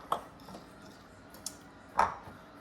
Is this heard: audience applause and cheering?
no